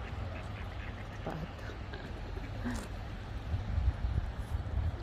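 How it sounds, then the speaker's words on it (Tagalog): Ducks quacking in a busy outdoor setting, several short calls scattered over a steady background murmur, moderately distant. "Ang daming mga pato-pato."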